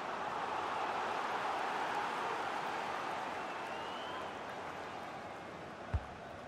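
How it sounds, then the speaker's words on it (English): A broad, steady roar of a large video game football stadium crowd, sustained and even, with a brief thump near the end. "Derek, listen to the crowd."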